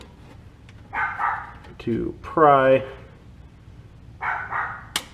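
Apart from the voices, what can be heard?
dog barking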